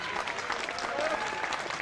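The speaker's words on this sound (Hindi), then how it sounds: "अपनी तालियां अपने आप ही बजवानी पड़ेगी भाई" Applause from a Rotary Club audience at a Hindi comic poetry evening, steady dense clapping filling the short stretch with some crowd murmur underneath.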